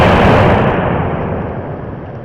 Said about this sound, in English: go ahead and load the gun again. We're going to shoot it some more.